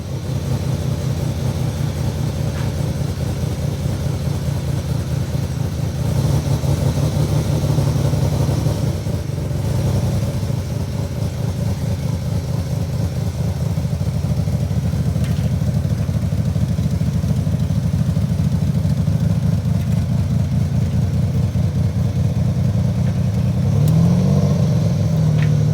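A turbo V6 Mazda MX3 runs steadily as it is driven out of a trailer, a loud, close engine drone that holds at low revs with slight swells throughout.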